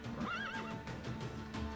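A horse in The Witcher 3 lets out one clear neigh, a rising and falling whinny near the start of the clip, with light hoof clip-clop and game ambience continuing underneath.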